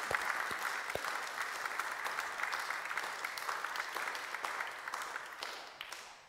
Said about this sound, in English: I think that's worthy of a sort of small round of applause